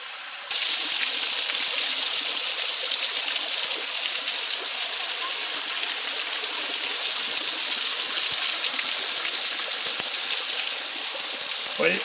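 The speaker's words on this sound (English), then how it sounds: "Another day, another Nova Scotian waterfall." Constant roar of Wentworth Falls in Nova Scotia, broad and steady rushing water up close, with no breaks throughout.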